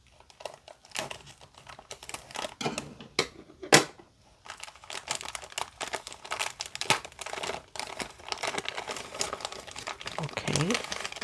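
Crisp crinkling and rustling of plastic packaging as it is handled and pulled open close up, irregular bursts with one sharp louder crackle, and a person murmuring softly underneath.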